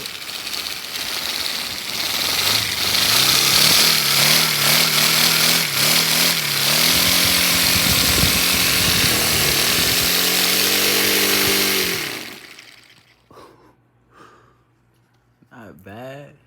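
A small four-cylinder radial engine with a flywheel buzzes loudly and raggedly, revving and settling for about twelve seconds before cutting out, leaving faint clatter and rustling behind.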